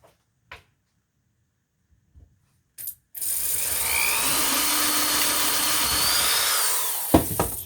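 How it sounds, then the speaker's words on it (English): A power drill bores a hole in a custom harp slider, starting with a few brief taps and then running in one steady, loud, high whine for about four seconds before stopping with a clunk. "Back with more drilling"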